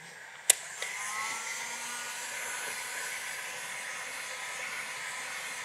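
A heat gun blows hot air while softening stickers on an Oldsmobile Cutlass Cruiser, starting with a sharp click, then a steady breathy hiss that holds even and close throughout.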